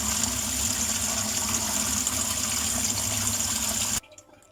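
Vinegar-soaked anchovies for marinated hamsi rinsed under a running tap, a steady close rush of water that stops abruptly near the end.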